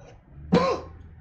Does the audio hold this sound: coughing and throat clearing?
yes